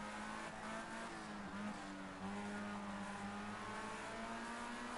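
Formula Ford race car in a racing video game, engine droning steadily at low revs as it brakes and rolls, a constant mechanical hum with a slight pitch drop midway, heard alone without talk.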